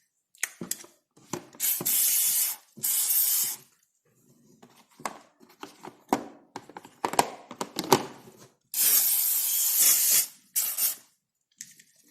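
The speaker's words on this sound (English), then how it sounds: "Make sure I spray everything on both sides." Short hissing bursts of a WD-40 aerosol can sprayed on plastic RC car parts, several separate blasts of varying length with quiet handling noises between them, close by.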